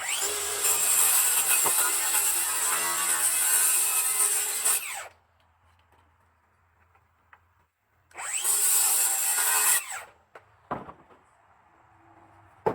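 A circular saw cuts wood in a shop class. There are two loud bursts of whining, rasping cutting, a long one and then a shorter one, with a quiet pause and a few small clunks and knocks between them.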